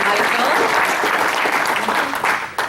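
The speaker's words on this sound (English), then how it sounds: "let's give him a big round of applause" An audience at a teacher awards gathering breaks into sustained applause, a dense, even wash of many clapping hands heard close and loud, tapering slightly near the end.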